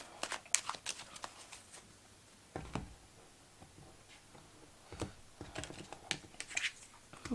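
Tarot cards are flipped and shuffled by hand in a run of sharp, irregular taps and flicks, some louder than others, close up in a quiet room.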